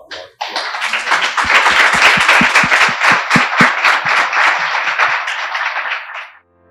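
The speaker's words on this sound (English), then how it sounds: "join me in just giving a round of applause" Audience at a prostate cancer survivors' testimonial event bursts into applause, a dense wash of clapping that swells in quickly and holds steady for several seconds before cutting off abruptly.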